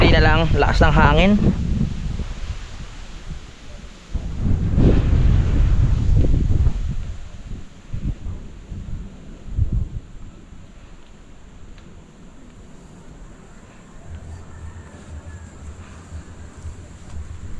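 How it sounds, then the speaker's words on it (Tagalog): Gusty wind buffets the microphone in loud bursts, with people talking and shouting briefly early on, then a quieter rushing background. "lakas ng hangin"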